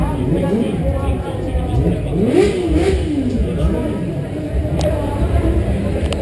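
Honda VFR motorcycle engine revving at a motorcycle show, a loud close rev that climbs and falls over a steady idle amid background chatter.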